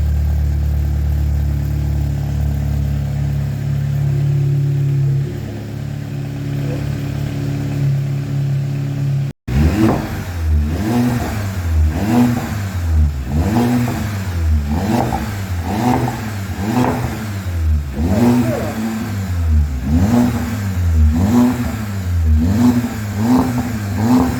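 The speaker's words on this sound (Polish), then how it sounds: "Jest cold start, to jest trochę głośniej, zaraz się rozgrzeje i będziemy gazować." A Volkswagen Golf 7 GTI engine on a cold start idles with a heavy low rumble, then after a brief cut runs loudly with a series of rhythmic revs rising and falling.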